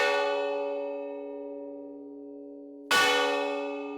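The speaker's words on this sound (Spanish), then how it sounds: "Eran 9 campanadas como estas." Church bell rung for the Angelus, a single loud clang decaying into a long sustained hum, then a second strike near the end starting a fresh ringing tone, alone in quiet surroundings.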